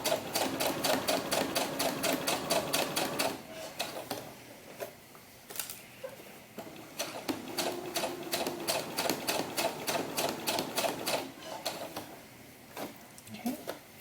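A sewing machine stitches the back panel of a doll mannequin's fabric in fast rhythmic runs, stopping briefly and then resuming, close and fairly loud with no talking.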